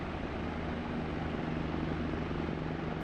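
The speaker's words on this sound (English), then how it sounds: "It's a loud helicopter because we're sitting close to that open." Bell OH-58D Kiowa Warrior helicopter in the DCS World flight simulator, heard from a seat close to an open cabin: a loud, steady rotor and engine roar that holds unbroken throughout.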